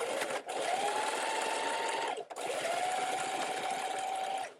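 A sewing machine stitching a sleeve seam with right sides together, running in two steady whirring passes separated by a brief pause, close and alone.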